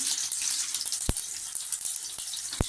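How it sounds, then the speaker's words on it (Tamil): Mustard seeds and urad dal sizzle in hot oil as a steady, hissing crackle with a couple of sharp pops standing out. "சரி, இப்போ கடுகு உளுந்தம் பருப்பு போட்டுக்கலாம்."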